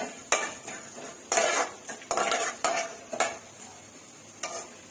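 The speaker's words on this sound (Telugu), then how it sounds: "ధనియాలు జీలకర్ర వేయించుకున్నాం" Coriander seeds and cumin roasting in a pan, with repeated sharp scraping and clinking strokes of a spoon against the metal, about six distinct stirs over a low sizzle, close and fairly loud with no talk.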